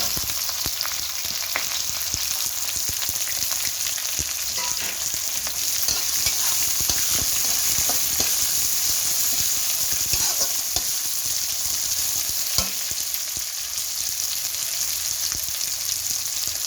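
Onions frying in a pan with chana dal, curry leaves and green chillies for palak uppittu hiss in a constant, close sizzle, dotted throughout with small ticks and scrapes from stirring.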